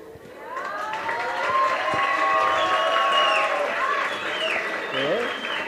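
An audience at a university debate on capitalism versus socialism applauds loudly after a speaker is introduced. Steady clapping swells and holds, mixed with cheering voices and whistles.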